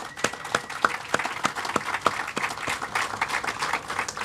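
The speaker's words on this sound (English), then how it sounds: "Please give them a hand of applause." Audience applause at a church village groundbreaking event: a small crowd claps in sharp, fairly steady bursts for about four seconds, near and moderately loud, with no talking.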